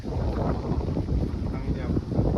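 Strong wind at a British Columbia camping and fishing spot buffets the microphone in a loud, steady roar with gusty surges, and voices can be heard faintly beneath it.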